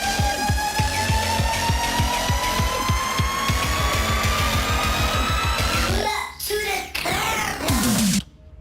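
Retrowave synth build, a noise riser climbing steadily under a repeating rhythmic pulse, breaking near the end into sharp stabs and sweeping laser-like tones before cutting out abruptly.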